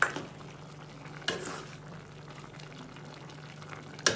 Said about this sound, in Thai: ก็จะคนให้ใบแมงลัก มัน ลงไปข้างล่างเพื่อที่จะให้มันสุก